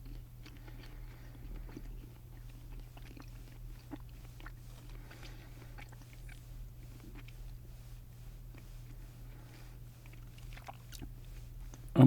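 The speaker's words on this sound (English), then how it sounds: "very tough to chew" Someone chews a tough, springy candy close up, with soft irregular chewing and mouth clicks over a steady low hum, quiet throughout.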